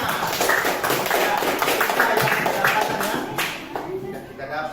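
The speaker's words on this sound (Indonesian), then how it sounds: "Ya, tepuk tangan." A class of students clapping together, a dense steady patter of applause that carries on throughout.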